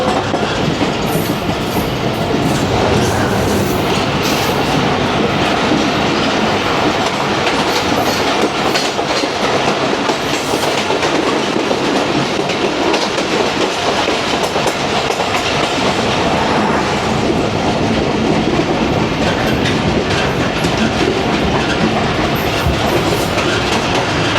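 Passenger train 40 Down thunders past at close range, a loud continuous roar of carriages with rhythmic clickety-clack of wheels over rail joints and brief squeal, no voices.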